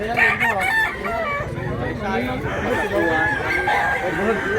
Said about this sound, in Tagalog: Napagandang manok. Mga bullstag.